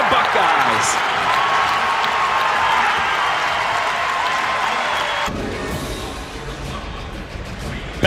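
Arena crowd at a college basketball game roars and applauds loudly after a win, a dense wash of cheering that drops suddenly partway through, leaving softer crowd noise under commentators talking.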